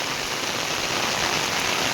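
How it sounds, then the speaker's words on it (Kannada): Heavy monsoon rain pours down on a coastal Malnad garden, a loud, dense, unbroken roar of drops beating on surfaces, with no voices. "ಇಷ್ಟು ಜೋರಾಗಿ ಮಳೆ ಬರ್ತಾ ಇದೆ."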